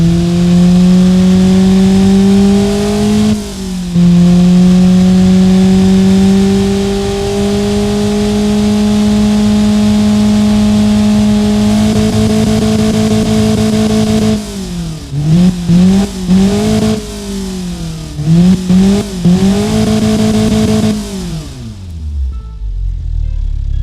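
A Honda K24A4 four-cylinder with VTEC, from the Honda Accord, simulated in the Automation game, revs loudly and steadily. Its pitch climbs and holds, then blips up and down several times before the engine cuts off.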